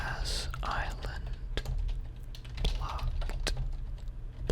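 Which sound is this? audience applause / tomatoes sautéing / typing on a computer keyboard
typing on a computer keyboard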